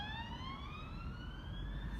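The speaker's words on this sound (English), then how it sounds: "I'm going to have to stop because the ambulance" An ambulance siren sweeps upward in a steady rising wail, fairly close and continuous, over a low rumble of background noise.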